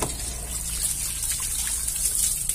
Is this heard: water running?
yes